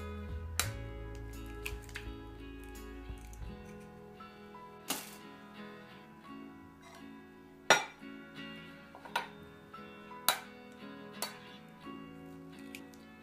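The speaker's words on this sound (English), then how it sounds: "So I'm going to add in our oil and our vanilla, and then crack in our eggs." Eggs cracked and liquids added into a mixing bowl for a chocolate cake batter, giving a few sharp clinks and taps of shell and utensil on the bowl, scattered over a quiet kitchen background with no talking.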